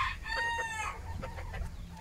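A hen gives a rising, drawn-out call and then a run of quick clucks, close and moderately loud with nobody talking.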